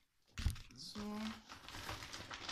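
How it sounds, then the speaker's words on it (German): A plastic shopping bag crinkles and rustles up close while someone speaks over it, the crackle swelling and fading in short handfuls. "Oh, die Knisterei, ne? Die nervt, ich weiß."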